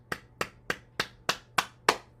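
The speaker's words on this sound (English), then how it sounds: "And we'll clap our hands," Seven crisp hand claps land at an even, unhurried pace during a gentle morning bouncing exercise session, each a sharp, fairly quiet smack standing alone with no talk.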